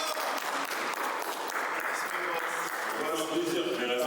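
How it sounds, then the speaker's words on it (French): An audience applauds steadily for a game-show winner, with dense continuous clapping throughout, close and loud, and voices are faintly mixed in beneath it. "Applaudissez-le, s'il vous plaît."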